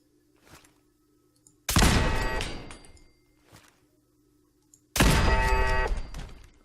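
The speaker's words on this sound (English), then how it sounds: "That's a turret. It's a hostile turret." A hostile turret firing in Fallout 4 (survival mode), two loud, sustained bursts of rapid automatic fire with a quieter stretch of faint thumps and clicks between them.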